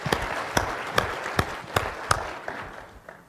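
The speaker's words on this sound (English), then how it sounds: "could you give yourselves a round of applause for doing that?" Conference audience at a Navy sexual harassment prevention event giving a brief round of applause, heard as a series of evenly spaced sharp claps that thin out and fade over a few seconds.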